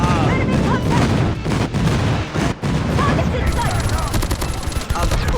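MK2 rifle gunfire in the shooter game Call of Duty Mobile comes as loud, dense bursts of rapid shots with booms and battle noise. A faint voice is heard here and there.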